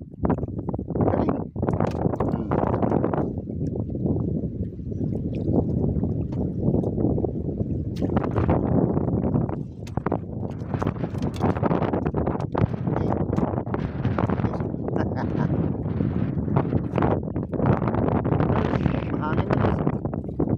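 Steady, heavy wind buffets the microphone throughout, a continuous roar with gusty surges, while people talk over it.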